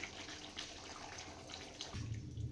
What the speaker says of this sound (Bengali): দেখো এর মধ্যে আমি এবার জল দিয়ে দিচ্ছি